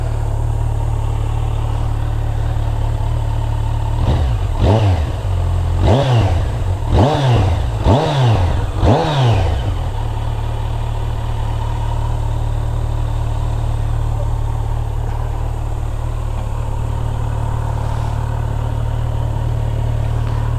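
A Kawasaki Z900 SE motorcycle idles with a low rumble, then its exhaust revs sharply several times in quick bursts before settling back to a steady idle.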